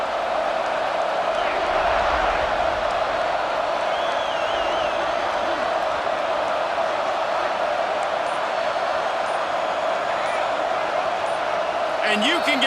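A stadium crowd at a football game keeps up a steady, loud roar that fills the whole stretch, with voices talking over the din.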